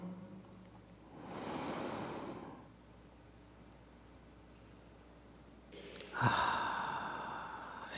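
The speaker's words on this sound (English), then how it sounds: "And another inhale." Deep breaths during a guided breathing exercise, a long airy inhale followed after a pause by a fuller, louder breath, both close and soft against a quiet room.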